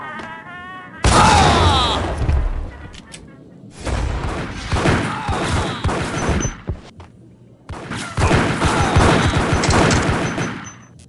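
Bursts of gunfire and booming blasts from the Max Payne mobile shooter game come in three loud clusters separated by short lulls, with shouted voices mixed in.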